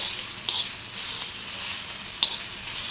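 Coarsely crushed green chili, garlic and cumin fry in a little oil on a griddle, giving a steady bright sizzle with a couple of brief spoon taps, close by and without speech.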